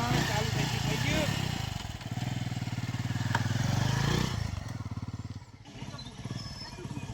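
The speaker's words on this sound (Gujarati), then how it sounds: "હવે હું બાઈક ચાલુ કરી જાઉં." A motorcycle engine runs close by with a loud, throbbing idle, then surges, dips and sputters unevenly before picking up a rough, pulsing beat again.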